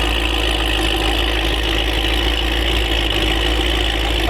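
A 5th gen car fitted with a Corsa exhaust idles steadily at a drag-and-drive event, a loud, constant low engine rumble holding without a break for a few seconds, no voices over it.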